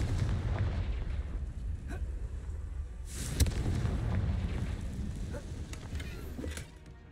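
A Confringo fire spell from the Hogwarts Legacy video game bursts in a deep rumbling blast, with one sharper crack partway through amid sustained low, booming roar.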